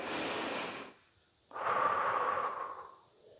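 Deep, slow breaths during a yoga bridge pose: one long exhale, a pause, then a second fuller breath with a faint whistling tone, close and soft with no talking.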